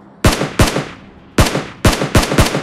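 A SCAR assault rifle fires in PUBG Mobile, giving six sharp, loud gunshots in two uneven bursts, each crack trailing off in a short echo.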